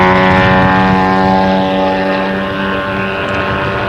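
An aerobatic airplane flying a competition sequence holds a loud, steady propeller drone with a sustained engine tone, close and continuous throughout.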